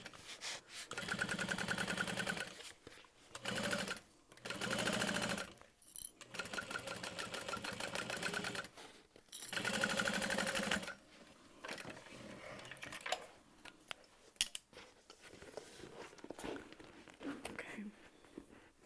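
Home sewing machine fitted with a seam guide stitching a structured tote bag, running in several steady whirring bursts separated by short pauses, with softer handling noises toward the end.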